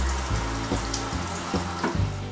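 Running tap water rinses a salmon fillet at a kitchen sink: a steady, close splashing hiss with soft thumps as the fish is turned under the stream.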